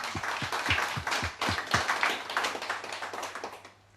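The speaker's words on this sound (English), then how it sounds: "I'd like to give her a round of applause, if you please." A small audience gives a round of applause, a sparse handful of distinct claps in uneven rhythm that thins out and fades near the end.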